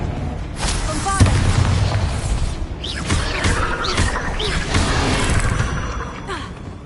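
In Hogwarts Legacy, a Bombarda spell goes off with a deep, booming blast and crashing debris during a spell fight, mixed with game sounds and character voices.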